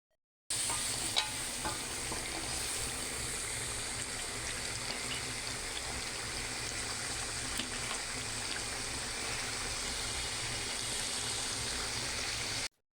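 Halim mix fried in a pan with a little ginger-garlic paste and a pinch of garam masala, giving a steady, close sizzle with faint stirring scrapes throughout and no voices.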